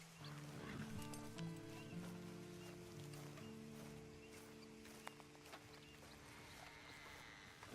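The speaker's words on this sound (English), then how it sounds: "And you better get on this horse." Horse hooves walking in Red Dead Redemption 2, soft clip-clop steps under a low steady tone with rustling and faint ambient sounds, fairly quiet throughout.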